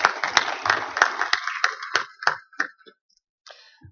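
A small audience claps at a drone technology event, with sparse, uneven hand claps that thin out and stop after about three seconds, then a few faint claps return.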